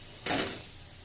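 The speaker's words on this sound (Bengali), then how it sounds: "এর মধ্যে এবার আমি তরকার ডালটা দিয়ে দেবো।" Cooked tarka dal goes into a hot pan of spices for dhaba-style egg tadka, a short burst of sizzling with a light clatter that fades quickly.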